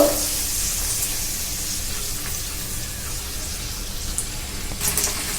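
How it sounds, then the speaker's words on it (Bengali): Radhaballabhi breads deep-frying in hot oil, a steady close hiss and sizzle with faint bubbling and an occasional stir or clink. "দেখুন বন্ধুরা কত সুন্দর রাধাবল্লভীগুলো ভাজা হচ্ছে"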